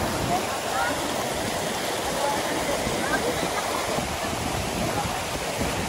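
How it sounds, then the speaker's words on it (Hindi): Broad, constant rushing of a waterfall in Rishikesh fills the scene, steady and loud with no pauses, water crashing continuously nearby. "और ये खूबसूरत झरने इधर देखो"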